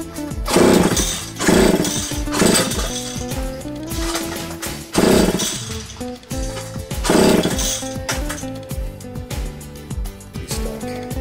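A McCulloch chainsaw engine sputters and fires in repeated rough, loud bursts as it is started, with choppy mechanical rattling between surges rather than a smooth steady idle.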